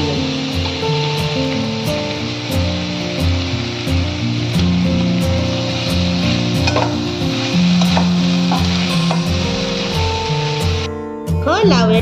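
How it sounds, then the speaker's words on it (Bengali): Bottle gourd peel frying in a kadai with green chillies, turmeric and salt, a loud continuous sizzle close by with stirring scrapes, while a voice talks over it and a brief clatter near the end. "লাউয়ের খোসা ভাজা রেডি"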